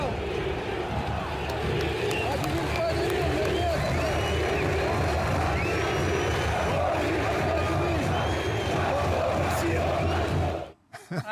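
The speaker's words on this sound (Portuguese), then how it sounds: "a torcida do Vasco gritando o nome do Diniz" Vasco supporters at São Januário chanting coach Diniz's name, a loud, massed crowd roar with rhythmic shouting sustained for about ten seconds before cutting off abruptly.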